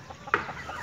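A single short cluck from a chicken stands out among soft, low clucking and faint farmyard noise.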